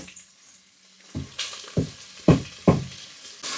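Garlic and spices hit hot fat back in a pan, giving a steady sizzle punctuated by several sharp bursts of louder crackling as they are stirred in.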